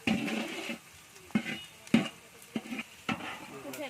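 Sliced onions fry in oil for chicken biryani and are stirred now and then. A soft sizzle runs underneath, and sharp scraping clatters of the spatula against the pan come at irregular intervals. No one speaks.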